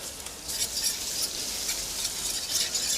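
Crushed garlic sizzling in a pan with onions and chilies, a steady bright hiss with light stirring scrapes, close and alone.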